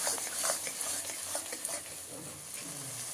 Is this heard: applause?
no